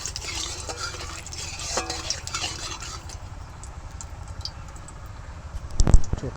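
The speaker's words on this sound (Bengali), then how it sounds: "ফোড়নটাকে একটু ভালো করে ভেজে নেব" Whole spices for a Bengali phoron temper fry and sizzle in a pan, a steady faint crackle with stirring scrapes and a sharper clatter near the end.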